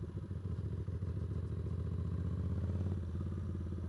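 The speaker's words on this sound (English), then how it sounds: "Those low revs are still a little rough in this thing" A twin-cylinder motorcycle engine idles roughly at low revs, a loud, uneven, lumpy chugging close by that briefly lifts in pitch before settling back.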